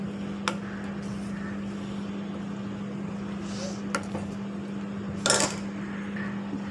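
A spoon stirs spice powder into jackfruit seed rasam in a pot over a low flame, giving a few sparse, light metallic clinks over a steady low hum.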